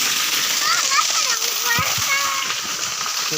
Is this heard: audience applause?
no